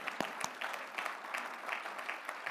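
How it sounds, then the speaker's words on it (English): Guests at an engineering awards dinner applaud the honorees, a faint, distant patter of many hands clapping in a steady wash with a few sharper claps standing out. "Give them a big round of applause"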